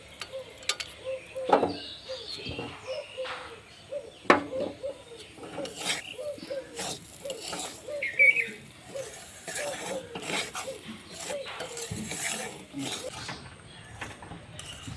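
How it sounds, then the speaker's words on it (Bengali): Semolina being stirred and roasted with nuts in a pan for upma, a spoon scraping and clinking against the metal in irregular bursts throughout, close and moderately loud. "সুজিটাকে কিন্তু অনবরত নাড়তে হবে"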